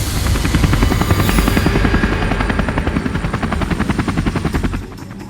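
Helicopter in a jungle action drama about commandos fighting militants, its rotor thumping in a steady rapid beat, loud and close throughout, then dropping slightly in level near the end.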